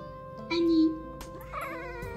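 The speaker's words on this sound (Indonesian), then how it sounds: "Ini kucing jenis apa ya?" A cat gives a single drawn-out meow from a video played back on a device, the sound mid-loud against steady background hum, with people talking around it.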